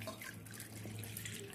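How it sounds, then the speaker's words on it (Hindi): Two bowls of cold water are poured into a pot, two packets of Maggi soup mix already inside, for hot and sour soup, giving a steady, faint running-water hiss throughout. "इसमें मैं 2 कटोरी ठंडा पानी डालूँगी।"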